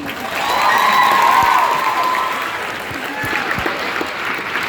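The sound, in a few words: crowd applauding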